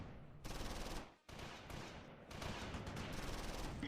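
Heavy sustained gunfire from a Panzer III tank in the Close Combat wartime strategy game, loud dense bursts of machine-gun and cannon fire with a brief gap near the middle before the barrage resumes.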